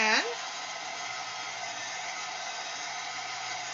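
A handheld dryer blows over craft paper to dry inks, making a steady, loud, close whooshing hum that holds evenly after a brief higher whine as it starts.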